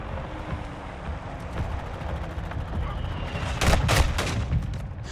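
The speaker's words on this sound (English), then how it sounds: "Friendly mortar strike inbound." Explosions from a friendly mortar strike in the video game Call of Duty Modern Warfare 2, with several booming impacts landing late in the stretch over steady battlefield noise and gunfire.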